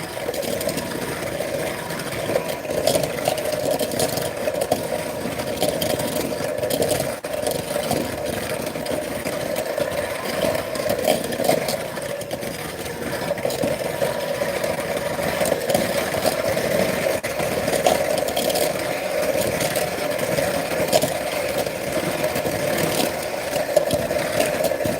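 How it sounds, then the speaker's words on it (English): An electric mixer whirs steadily while beating apple cake batter, a constant close motor drone running throughout with no pauses. "I know you can't hear me because of the mixer."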